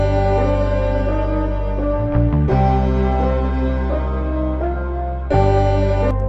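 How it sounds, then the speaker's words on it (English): Dark, downsampled music sample with a muffled, lo-fi vintage tone: layered sustained chords and bell-like tones over a heavy low end, playing steadily with a brief dip and re-entry partway through, no voices. "I, you know, downsampled it to 20K so it doesn't pronounce as much of the bright frequencies."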